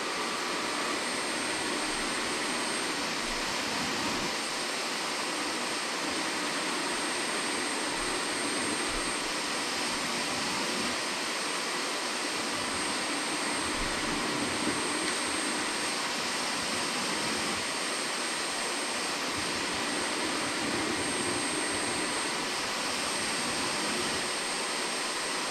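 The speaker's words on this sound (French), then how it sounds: "il détecte la saleté à l'auto-nettoyage afin de renettoyer la brosse si nécessaire." A Roborock Flexi Lite wet-dry vacuum runs its brush self-cleaning cycle, a loud, steady whirring roar with a high whine that holds constant throughout, with no talking.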